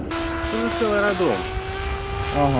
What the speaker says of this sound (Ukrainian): Готуючи свій літачок, хлопці почули над собою звук іншого.